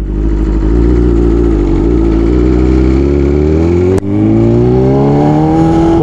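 A BMW S1000RR sportbike with a Stage 2 flash fires up after sitting for a couple of weeks, its loud close engine settling into a rough, rumbling idle, then briefly dipping before revving higher with a rising whine.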